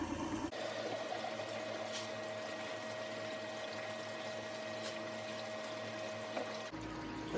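Water rushes steadily through a gold prospecting sluice as material is wetted down, a continuous close splashing flow with a constant pump-like tone underneath, starting abruptly and cutting off sharply near the end.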